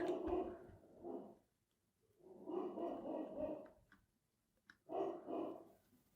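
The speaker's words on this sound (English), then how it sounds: "My dog's outside barking at whatever." A dog barking outdoors, heard from indoors in three muffled bursts of rapid barks separated by short pauses, moderately faint.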